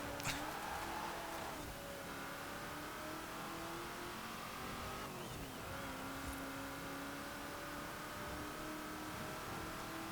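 A 1980s car in the racing game Forza Horizon 4 drones steadily as its engine holds and slowly climbs in pitch, a sustained, fairly loud mid-range hum with no talking.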